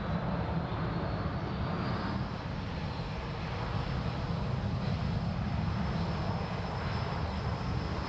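Airliner engines at Sydney Airport during a busy rush hour, a steady broad roar of a plane passing at moderate distance, with no talk.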